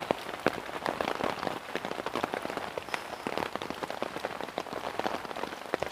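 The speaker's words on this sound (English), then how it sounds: "Just listen to that rain." Heavy rain pounds a hammock tarp from a Snugpak setup in a dense, steady patter of close, sharp drops that never lets up, with no voices.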